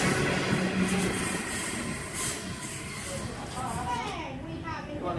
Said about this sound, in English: We have Endeavour set N2 arriving on platform number 2 for a Talawa service.